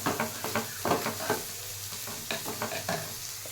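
Onions and other food stirred in a frying pan, a spatula scraping in short irregular strokes over a steady close sizzle, with no voices.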